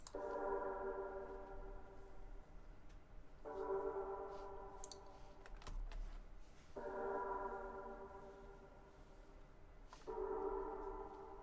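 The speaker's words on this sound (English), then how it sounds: "I then built up some chords on the bass notes using this flex preset. It sounds like this." Sustained synth chords from an FL Studio Flex preset, built over bass notes, change in four blocks of about three seconds each, soft and steady with faint clicks, no voice.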